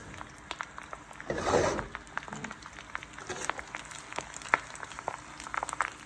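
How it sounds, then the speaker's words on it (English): Soft sizzling with scattered crackles and pops from a pan, plus a brief rustling swell early on, quiet and close. "You can hear it sizzling."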